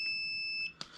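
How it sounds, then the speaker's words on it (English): A continuity tester beeps with steady high tones while probing the points of a rebuilt distributor from a Ford 2N tractor, followed by a couple of short clicks near the end. "We should hear an audible beep."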